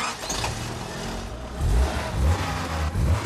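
A car engine hums and swells in a few short revs as the accelerator is pressed, steady and fairly close with no other sounds.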